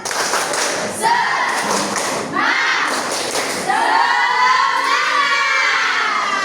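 Indonesian primary schoolchildren stand and perform a rhythmic clapping chant in a classroom, with group claps and shouted voices in bursts across the clip, close and loud.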